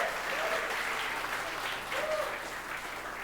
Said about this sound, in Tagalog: Ang naniniwala doon, pumapalakpak ng the best kay Jesus.